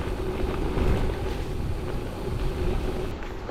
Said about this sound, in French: Le vent s'élève gentiment, pour l'instant il n'est pas trop violent